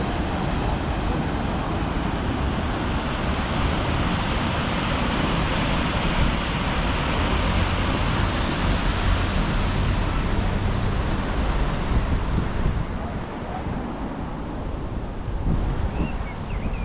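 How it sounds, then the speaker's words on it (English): The waterfall at Betws-y-Coed in North Wales roars as a steady, loud broadband rush of water, continuous throughout with a slight dip near the end, and no one talks. "So we are just at the Betws-y-Coed waterfall, which is just absolutely stunning"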